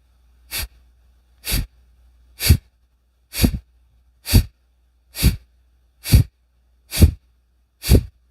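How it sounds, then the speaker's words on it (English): Kapalabhati pranayama yoga breathing: nine forceful nasal exhalation pumps at a steady, roughly one-per-second rhythm, close and distinct with silence between each, no talking. "So that was one round of Kapalabhati"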